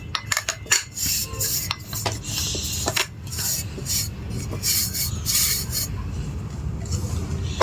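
Dry ground mixed-nut protein powder stirred and scraped with a spoon in a container, giving close, uneven scraping and clinking with a few sharp taps, alone.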